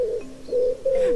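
A pigeon coos in a bird-call guessing game, giving three low, soft, close coos with short gaps between them, clear and alone.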